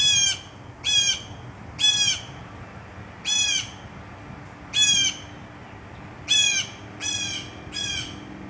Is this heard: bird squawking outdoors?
yes